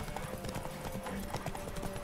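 A horse gallops in The Witcher 3 video game, quick rhythmic hoofbeats thudding steadily and close under faint background noise for about two seconds.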